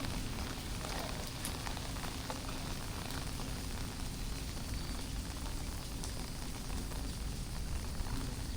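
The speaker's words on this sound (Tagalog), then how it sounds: "Grabe, lakas pa rin po ng ulan." A dense, steady hiss of heavy rain in Marikina pours continuously over a low rumble, with no letup and no voices.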